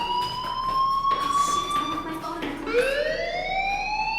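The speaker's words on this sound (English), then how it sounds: "do you hear that fire alarm?" A fire alarm in the video game Life is Strange wails loud and steady, a rising electronic siren tone that sweeps upward midway and holds, with faint voices beneath.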